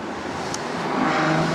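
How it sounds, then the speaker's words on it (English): A Ferrari FF driving past with a steady, loud engine and road roar rising slightly, heard close and without talk. "Ferrari FF."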